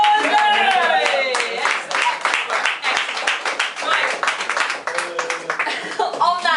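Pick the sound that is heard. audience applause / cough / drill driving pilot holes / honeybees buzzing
audience applause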